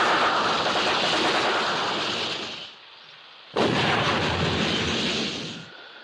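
A firefight sound effect with two long bursts of heavy, rumbling gunfire and blasts, each lasting a few seconds, separated by a short near-silent pause.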